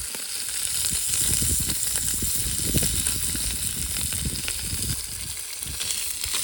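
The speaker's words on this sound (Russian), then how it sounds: "Рыбка жарится." Chupra fish sizzles and crackles in a hot pan, a steady close spatter with irregular popping bursts throughout.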